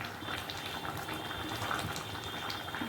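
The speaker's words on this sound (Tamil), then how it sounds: "குழம்பு எவ்வளோ அழகாக கொதித்து வந்துச்சு பாருங்கள்" Kurma kuzhambu curry boils in a pot, a close, continuous bubbling and gurgling with small popping blips over a soft steady hiss.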